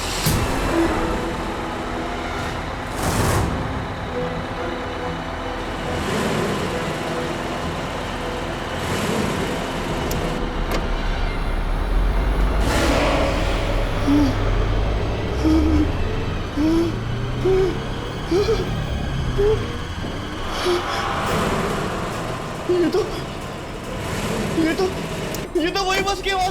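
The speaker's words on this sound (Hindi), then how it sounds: "ये तो वही बस की आवाज है।" A bus engine rumbles low and steady throughout a tense horror-drama scene, the motor drone swelling and fading under hooting, eerie tones and occasional voices.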